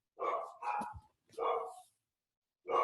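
Dogs barking close by in a home, four separate loud barks in an uneven rhythm with short silent gaps between them, no talk.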